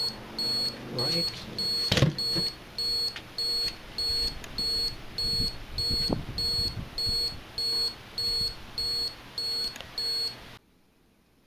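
A front porch motion alarm with a microwave sensor beeps in a steady repeating pattern of short bursts, about one per second, with some handling noise and faint voices before it stops.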